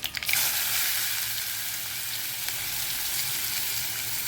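Onion sautéing in oil with cumin and asafoetida for a drumstick leaves dish, an even, hissing sizzle that opens with a brief burst of crackle and then holds steady, with no talking.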